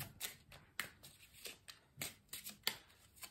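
Tarot cards are shuffled, slid and laid down on a surface, giving a quiet, close series of irregular papery flicks and soft snaps over about three seconds.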